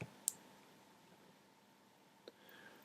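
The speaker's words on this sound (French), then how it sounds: "Alors, je clique, je place mon curseur." Two faint, sharp computer mouse clicks land about two seconds apart in an otherwise quiet room with a low background hiss.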